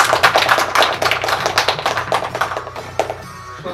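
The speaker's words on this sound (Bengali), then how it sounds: "তার জন্য একটা হাততালি প্লিজ।" Clapping rings out at an award ceremony, a loud, close patter of hands with a quick uneven rhythm that thins slightly toward the end.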